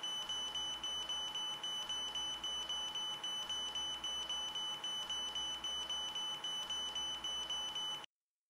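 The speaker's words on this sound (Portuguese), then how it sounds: "O alarme do marca-passo soa" A pacemaker alarm on a ZOLL R Series defibrillator: steady electronic alarm tones held at a constant pitch, with short beeps pulsing regularly underneath, continuous for about eight seconds before stopping abruptly.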